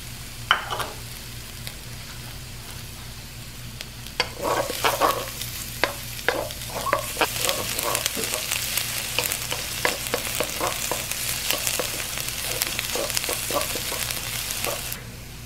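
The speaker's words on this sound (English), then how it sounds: "add your shallots. And continue to stir until slightly golden brown." Shallots, with garlic, fry in a pan for a low carb red curry noodle soup, giving a steady sizzle that grows louder partway through, broken by repeated scraping strokes as a utensil stirs them.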